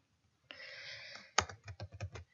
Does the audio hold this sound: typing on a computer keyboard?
yes